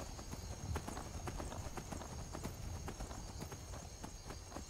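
A horse's hooves clip-clop steadily in the Skyrim video game, a close, even rhythm of sharp thuds over a faint hum, with no talking.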